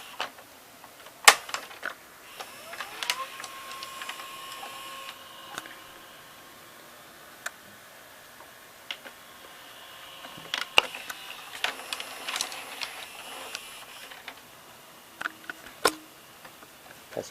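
Inside a GE 9-7110 VCR, the pulley and gears turn with faint mechanical whirring, soft ticks and sharp clicks that come in scattered bursts against a quiet background.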